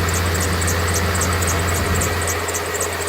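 A Chevy G20 van's engine idles steadily with a constant low rumble and a light squeak, running continuously and fairly loud with no talk.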